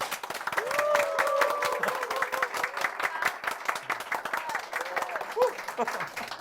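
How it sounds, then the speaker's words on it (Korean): An audience at a Korean book forum author talk breaks into sustained applause, many hands clapping together, with a voice speaking over it in Korean as the clapping gradually thins out. "우리 한번 큰 박수 좀"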